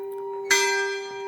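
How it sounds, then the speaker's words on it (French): A church bell strikes once, loud and nearby, its bright clang ringing out and slowly decaying over a steady low hum. "Ah, désolé pour la cloche."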